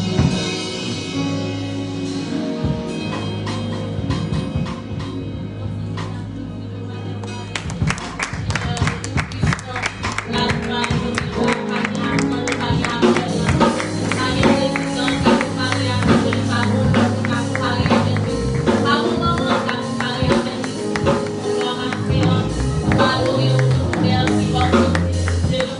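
A worship congregation applauds the Spirit of God, steady clapping blended with music and voices that runs through the whole stretch, loud and continuous.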